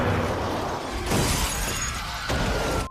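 Windshield glass shatters loudly in a film scene as a creature is flung through a car's front window, a dense crashing burst at about one second followed by a second crunch near two and a quarter seconds over continuous action noise.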